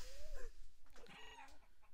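A chicken in the VRChat game gives a couple of short, close clucking squawks, with faint game sounds and a brief loud bump at the very end.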